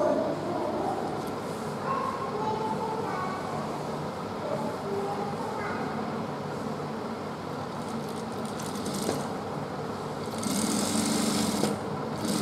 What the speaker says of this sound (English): now I'm going to stitch the dart part